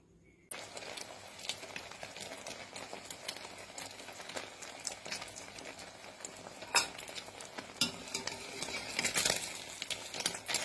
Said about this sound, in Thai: มะเขือยาว ทอด ทอดชุบไข่ ชุบไข่ทอดอร่อยค่ะ